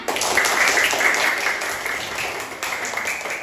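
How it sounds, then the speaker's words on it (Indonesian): Students in a religious studies class applaud all the groups at the end of a lesson on prayer, with broad, continuous clapping that stays strong throughout and tapers a little near the end. "Tepuk tangan untuk semuanya."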